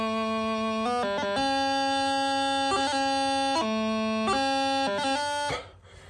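A bagpipe plays the first bar of Green Hills of Tyrol over a steady drone, with quick ornamental grace notes between sustained melody notes.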